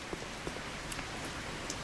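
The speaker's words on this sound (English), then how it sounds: "And it is raining" Steady rain falls outdoors in the game Denizen Life Simulator, a dense even hiss with scattered individual drops ticking through it, continuous and fairly faint.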